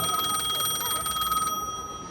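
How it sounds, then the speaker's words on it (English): An old-style payphone on a boardwalk rings with a fast metallic bell trill, loud and close, stopping abruptly partway through and leaving a faint tone trailing off. "Is that a payphone ringing?"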